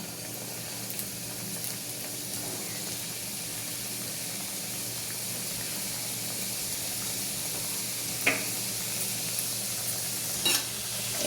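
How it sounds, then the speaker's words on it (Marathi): Modak frying in hot oil, a steady soft sizzle and hiss that continues evenly throughout, with a couple of faint clinks near the end. "आता आपण तळून घेऊ"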